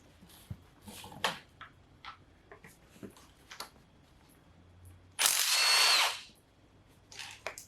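A power tool bursts into a loud whirring run for about a second while backing out a regular 14 millimeter bolt near the transmission mount holes on a 1998 Acura Integra GS-R. Scattered quiet clicks and clatter surround the run, with no talk.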